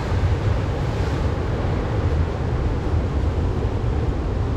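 Ocean surf churns in a loud, continuous roar of breaking waves, steady throughout with some wind noise on the microphone and no talk.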